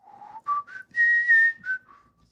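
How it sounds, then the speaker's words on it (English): A person whistles a short melody alone, a clear close run of sustained notes that step up and down in pitch with brief gaps between phrases. "a melody is just something that you can sing or whistle."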